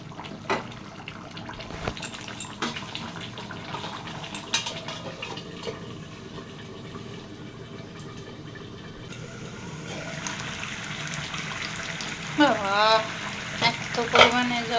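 Meat simmers in a pan in the water it has released, giving a steady bubbling sizzle with occasional utensil clinks, and a voice speaks toward the end.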